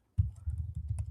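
Typing on a computer keyboard while writing VBA code for Outlook emails, a quick run of close, soft keystrokes with a steady uneven rhythm, no voices.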